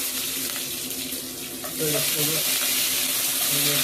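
Curry leaves crackle and sizzle in hot oil after mustard seeds splutter in a Kerala fish mappas pan, a steady close frying hiss that grows louder and busier partway through.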